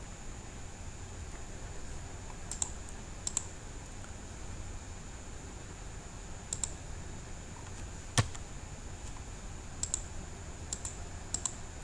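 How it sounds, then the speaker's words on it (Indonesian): Sparse, faint keystroke clicks on a computer keyboard come in small scattered bursts over a steady low hiss, with one sharper tap near the end and no talking. "Kita ketik di sini saja."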